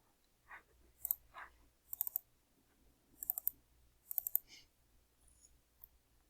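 Faint, sharp computer mouse clicks come singly and in quick pairs at irregular intervals over a quiet background, with no talking.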